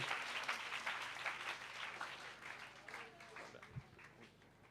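Congregation clapping in a church service, a steady wash of many hands applauding at moderate distance and slowly easing off, with faint voices mixed in.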